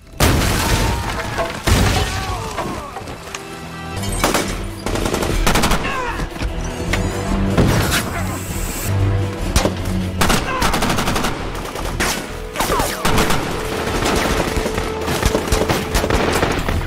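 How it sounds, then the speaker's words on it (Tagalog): Rapid bursts of gunfire crack repeatedly, with machine-gun volleys and scattered single shots over a tense dramatic background, loud and continuous throughout. "Isang napakalaking shootout ang naganap"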